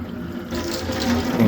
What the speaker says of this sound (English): Rinse out the sink.